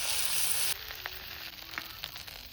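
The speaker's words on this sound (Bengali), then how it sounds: "বাকি মাছগুলো তাড়াতাড়ি করে ভেজে নেব" Fish frying in hot oil makes a soft, steady sizzle, louder for the first moment and then settling into a quieter crackle with small scattered pops, no voices.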